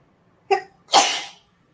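A single sharp sneeze: a quick intake followed by a loud, breathy burst, then silence.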